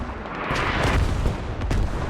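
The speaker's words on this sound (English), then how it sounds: "One guy here is in the path of this artillery strike." Artillery strike explosions in the Squad military shooter game, a dense run of booming blasts and gunfire-like cracks, loud and continuous over about two seconds, with sharper hits near the middle and end.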